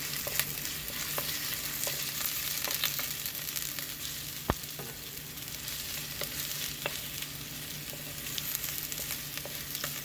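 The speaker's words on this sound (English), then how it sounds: "And I'm going to stir it." Cloves, cardamom pods, bay leaves and a Maggi cube frying in oil in a pot for Sri Lankan lamb curry, a soft steady sizzle with occasional light stirring taps and one sharp clink.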